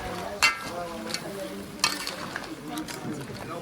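Garlic, ginger and chili go into a hot pot for a rougail cabris, giving soft sizzling with a few clinks and stirring scrapes while a person speaks over it.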